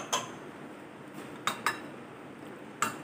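Utensils clink against a dish a few times while red chili sauce and soy sauce are stirred together, with sharp isolated taps separated by quiet pauses.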